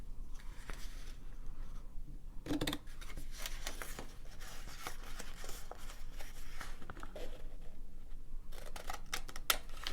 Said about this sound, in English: we're going to cut away this little rectangle.